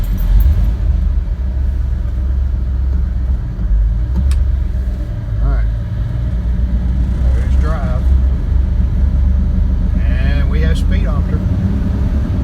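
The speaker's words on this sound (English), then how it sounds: "I have the car up on the lift about a foot off the ground so I can put it in gear" A 1965/66 Ford Mustang sits raised about a foot on a lift and runs in gear, a steady low engine rumble continuing throughout, with occasional faint chirps and squeaks above it.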